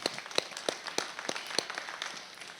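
Sparse applause at a livestock auction facility: a small crowd gives several scattered, moderately loud claps at a fairly even pace, with no talking.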